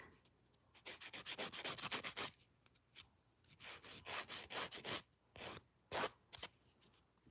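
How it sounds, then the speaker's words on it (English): A nail file smoothing fingernails during a dip powder manicure, with bursts of quick rhythmic rasping strokes separated by short pauses, close and fairly loud. "I'm not going to go super crazy with the filing. Just want it smooth."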